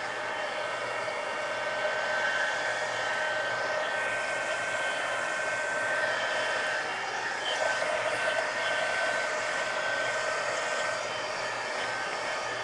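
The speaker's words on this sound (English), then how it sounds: "Let me get back to the heat gun." Heat gun blowing hot air, a steady continuous whoosh with a faint tonal whine, holding at an even, close level for the whole stretch with no talk.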